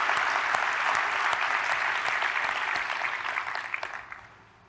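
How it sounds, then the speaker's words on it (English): An audience applauds Anita Sanchez with sustained, dense clapping that holds steady, then thins out and fades over the last moment. "Another round of applause for Anita Sanchez."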